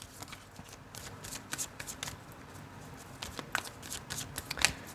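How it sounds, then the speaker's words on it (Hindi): Tarot cards are shuffled close by, a quiet run of crisp riffling snaps and soft slaps at an uneven rhythm, with no talking. "final shuffle"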